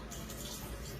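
Liquid hooch being poured off the top of a sourdough starter in a kitchen, a soft, steady trickle heard close up and alone for a brief moment.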